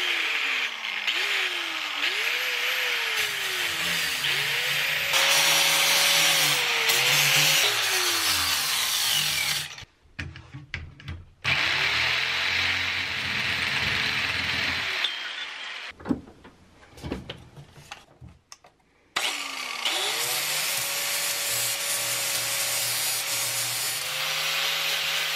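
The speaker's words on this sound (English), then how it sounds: "Now I got this sanding wheel on." A power sanding wheel grinds against wood in long whining runs, its motor pitch rising and falling, with two brief pauses where it cuts out.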